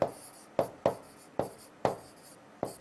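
Pen strokes writing a note on paper, six crisp scratchy taps at an uneven pace, each a quick stroke that fades, close up with no talk.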